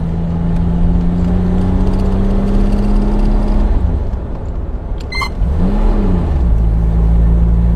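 A Jaguar XK120 engine runs with a loud, steady drone, its pitch holding, dipping, then swelling again in a brief rev before settling back to a low hum.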